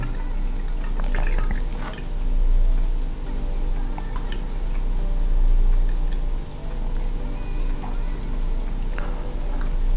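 Dirty water drains from thawed frozen fish food such as bloodworms, a steady trickle and scattered drips close by, with faint clinks of a container over a constant low background hum.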